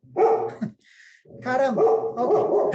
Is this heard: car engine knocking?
no